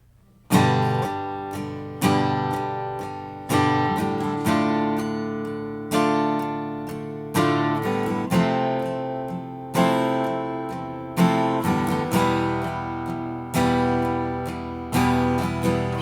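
Acoustic guitar playing the outro of a song, strummed chords ringing out in a steady pattern, each strum accented roughly every second or two, close and clear with no voices.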